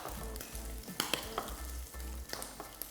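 A spoon works avocado-oil mayonnaise into a salmon salad in a bowl, making soft, wet squelching strokes with a few sharper taps against the side. The sound stays close and fairly quiet, with no talking.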